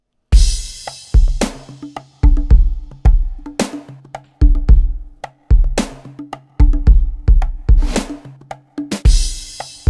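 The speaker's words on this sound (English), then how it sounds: "I played in a pattern using samples from a cajon, which I overlaid on top of that groove" Cajon samples played as a drum groove, with deep booming bass hits and sharp slaps and snaps repeating in a steady, punchy pattern, loud and close with no other sounds.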